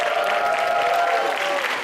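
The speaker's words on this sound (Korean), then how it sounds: "자, 박수 한번 쳐주세요." A church chapel audience applauds warmly to welcome a pastor and his wife to the front, a dense, continuous wash of clapping held at an even level throughout.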